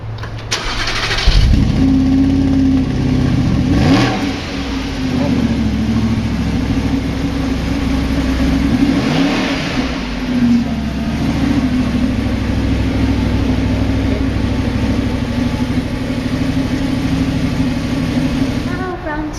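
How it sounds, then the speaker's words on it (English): An Audi R8 engine starts, rising in a quick revving burst before settling into a steady, deep idle that holds for a long stretch with a few brief throttle swells, loud and close. "So now we've heard the exhaust note"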